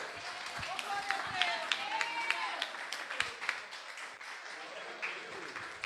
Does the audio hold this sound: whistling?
no